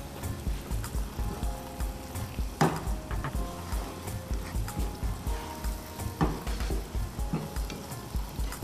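Tomato puree is stirred into a pot of sizzling African stew. A spoon scrapes the pot in a steady rhythm over continuous frying hiss, with a few sharper clanks against the rim.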